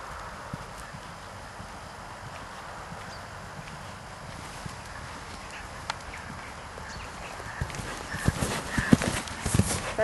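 Horse hooves clip-clop steadily on the ground during a riding lesson, with the steps growing louder and closer toward the end over light wind noise.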